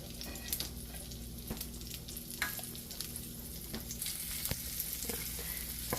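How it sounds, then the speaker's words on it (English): Chopped onion sautés in a little oil in a pot, giving a steady low sizzle with faint crackles and a few soft stirring clinks throughout, close by and with no talking. "I'm going to saute this just a little bit. All this is just onion with a little bit of oil"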